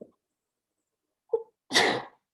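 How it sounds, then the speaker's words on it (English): A single loud sneeze bursts out after a brief quiet moment, preceded by a short sharp inhale; close and abrupt, with no talking. "Maybe you could edit out my sneeze."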